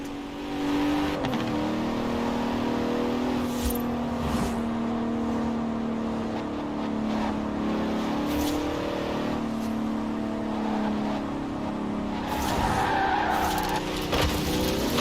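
A Bentley Continental in the racing game Forza Horizon 4 drives at a steady engine drone with long tire squeals and skidding, ending in a brief burst of revving and scraping, with no talking.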